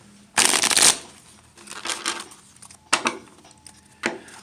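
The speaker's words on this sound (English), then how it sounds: "let's do a shuffle real quick." A deck of tarot cards is riffled and shuffled by hand: one loud burst of flicking cards, then several shorter, softer shuffling bursts spaced apart, close and without talk.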